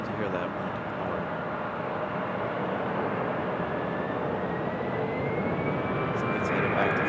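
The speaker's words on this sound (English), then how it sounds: "That A319's turning out on the runway. We're about to hear that one depart." An Airbus A319 jet airliner departing on the runway at Raleigh-Durham International Airport produces a broad, steady jet roar that slowly builds, with a rising engine whine, heard from a distance with people talking.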